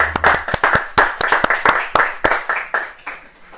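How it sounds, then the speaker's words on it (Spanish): A church congregation claps steadily, sharp hand claps close and distinct at first, then thinning and fading out. "Vamos a darle un aplauso a Cristo."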